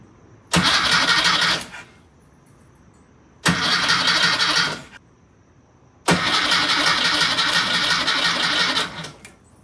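VW Type 1 engine in a Karmann Ghia cranking without spark because the coil is unhooked: three separate bursts of loud, fast whirring starter churn, the last one longest, with quiet pauses between and no firing.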